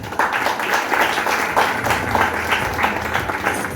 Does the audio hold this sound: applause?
yes